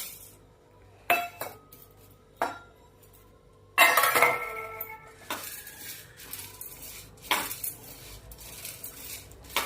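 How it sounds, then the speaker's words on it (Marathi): Chana dal being dry-roasted and stirred in a pan for chakli bhajani flour, giving sharp metallic clinks and scrapes of a spoon against the pan, spaced irregularly, with a busier burst of scraping midway. "आता आपण हरभऱ्याची डाळ भाजूया"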